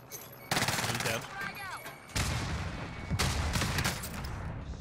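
Bursts of automatic gunfire and heavy shooting from Call of Duty Modern Warfare Warzone, loud and dense across the clip, with a player's voice talking over the combat.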